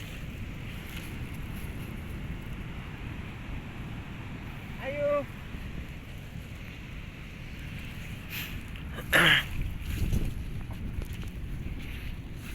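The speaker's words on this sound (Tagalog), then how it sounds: "grabing lakas ng alon oh, grabe alon" Strong sea waves and wind buffet a boat, a steady loud wash of surf and rushing air close by, with a couple of brief sharper bursts partway through.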